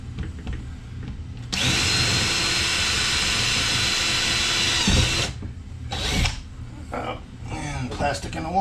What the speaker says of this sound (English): let me drill a couple holes and twist tie the top of this PVC pipe to the side of the container